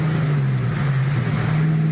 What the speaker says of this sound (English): It sounds like it's got exhaust pods.